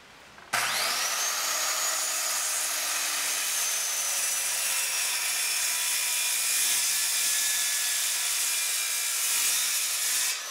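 A saw runs continuously through a wooden beam, cutting tenons with a steady whining, rasping drone that starts abruptly and holds for several seconds.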